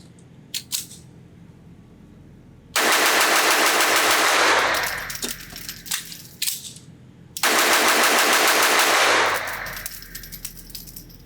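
A Volquartsen Mamba DBG custom .22lr target pistol fires in two long, very rapid bursts of sharp cracks on a range, preceded by a few isolated shots, loud and close with quiet gaps between.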